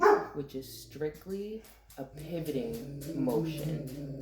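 A dog barks repeatedly nearby indoors, several sharp yappy barks and a whimpering whine mixed in while a person keeps talking over it.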